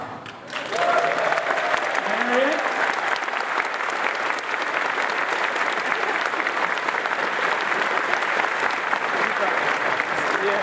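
A large crowd applauds at a convention closing ceremony, sustained and steady after a brief spoken phrase at the start, with a few voices rising faintly within the clapping.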